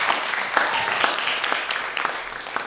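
Audience applause for a poet at a high school poetry slam after judges' scores, a dense, steady patter of many hands clapping throughout, fairly close and full, with no talk over it.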